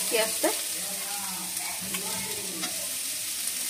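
Chopped onion going into a pan of cauliflower and capsicum frying in oil, a quiet close sizzle with a few stirring scrapes and no talking.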